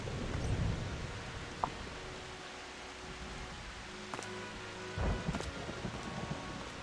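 Rain falling in the Final Fantasy XIV video game, a steady soft hiss of downpour with a few sharp drips and a low rumble of thunder partway through.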